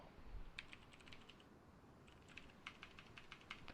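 Someone types on an unfamiliar computer keyboard during a Rust console game stream, with light, irregular key clicks at low volume over a steady background hiss, no voices.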